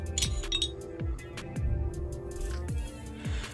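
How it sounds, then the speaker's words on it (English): Metal parts of a Sig Sauer P320 pistol clink and click softly as the recoil spring assembly and barrel are removed, a series of small, close, quiet taps and scrapes. "From here, I'm going to remove the recoil spring assembly"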